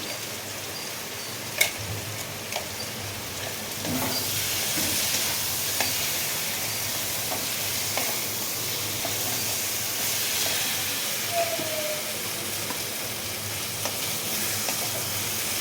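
Potatoes sizzle and fry with spices in a pan, a continuous close hiss broken by a few sharp clacks of stirring.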